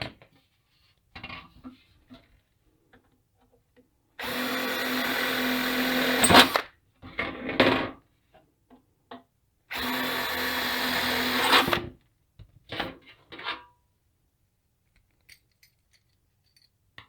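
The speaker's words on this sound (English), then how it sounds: "Now I'm going to drill holes that will match the diameter of the rod." Two loud bursts of a power drill whirring for about two seconds each, drilling holes in a metal ammo can, separated by short clanks and handling noises, then quieter tapping.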